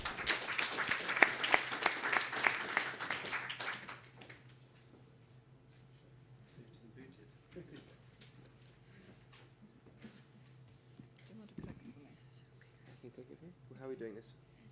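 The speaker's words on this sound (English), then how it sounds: "Round of applause." A small crowd at a Christmas networking party claps for about four seconds, many hands in a quick, dense patter close by, then it fades to quiet room tone with faint rustles and soft talk.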